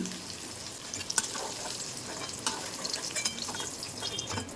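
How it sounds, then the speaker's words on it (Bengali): Lightly fried paneer pieces are lifted out of a kadai, the hot fat sizzling steadily while a utensil makes occasional soft clinks and scrapes against the pan. "পনিরগুলোকে কিন্তু ভাজা হয়ে গিয়েছে একদম হালকাভাবে আমি ভেজে নিয়েছি এবারে আমি তুলে নিচ্ছি"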